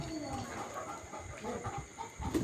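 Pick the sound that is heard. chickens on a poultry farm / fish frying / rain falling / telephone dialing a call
chickens on a poultry farm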